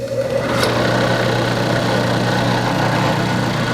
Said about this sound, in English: Turn on the light and turn on the drill.